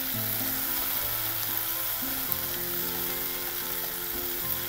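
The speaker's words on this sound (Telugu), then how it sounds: "మొత్తం కీమా అంతా డ్రైగా ఫ్రై చేసుకోవాలి, గ్రేవీ ఏమి ఉండొద్దు." Minced chicken keema frying dry in a pan for samosa stuffing, a steady close sizzle with faint stirring scrapes throughout, no voices.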